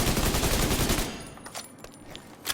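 Rapid automatic gunfire from The Division 2 shooting game blasts loudly for about a second, hitting enemies, then drops to a few scattered sharp shots and impacts.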